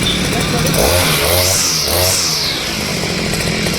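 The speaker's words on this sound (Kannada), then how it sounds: "ಇದು 2 ಸ್ಟ್ರೋಕ್ ಇಂಜಿನ್ನು" A push-type brushcutter's 2-stroke engine runs steadily and loudly up close, a buzzing, chainsaw-like drone with slight rises in revs and a faint voice underneath.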